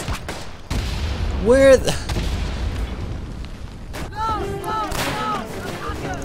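Gunfire in the World War I shooter Verdun: scattered sharp shots and distant booms cracking through a battlefield din, some near and loud, with a brief spoken remark between them.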